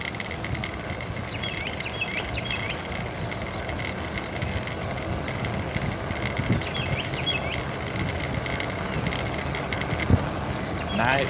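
A bicycle rolls along on an early morning ride in the dark, with a continuous soft whir of tyres and drivetrain, light mechanical ticking and faint wind, plus occasional small clicks and rattles over a steady low rumble.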